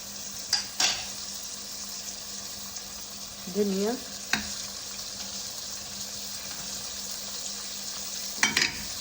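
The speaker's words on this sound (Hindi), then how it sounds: "अभी ये मैं जो आधा किलो चिकन थी देसी चिकन वो डाल दी। अभी इसको मैं भूनूंगी" Desi chicken fries with spices in a pot, making a faint, steady sizzling hiss with a few scattered utensil clinks and a brief voice in the background.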